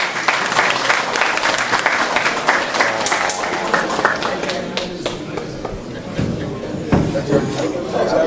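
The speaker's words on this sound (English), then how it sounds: "Let's give him a round of applause." An audience at a political gathering in South Abaco breaks into loud, sustained applause, thick overlapping clapping that eases slightly midway then swells again, with crowd chatter mixed in.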